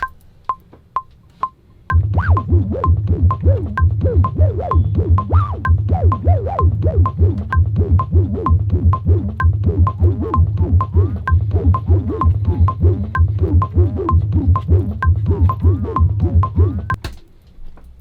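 A Moog Sub 37 analog synthesizer plays a loud, pulsing, throbbing bass texture, preceded by a few sparse clicking ticks, then a steady rhythmic low drone with wavering tones that cuts off abruptly near the end.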